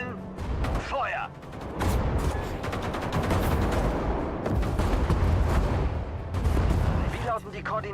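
In the WWII strategy game Sudden Strike 5, artillery and gunfire rumble as dense, continuous volleys of booming blasts and crackling shots. A brief voice or radio chirp comes at the start and again near the end.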